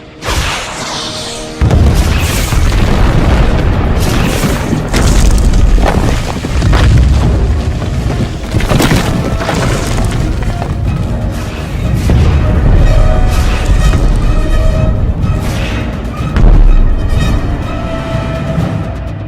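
A salvo of helicopter rockets strikes a rocky target in a combat game. Loud, overlapping booms and explosions roll on almost without a break, with whooshes and crashing debris throughout.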